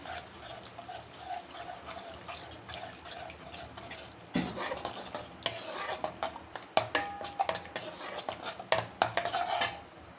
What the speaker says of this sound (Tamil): ரெண்டு முட்டை உடச்சி போட்டு நல்லா ஃப்ரை பண்ணுங்கள்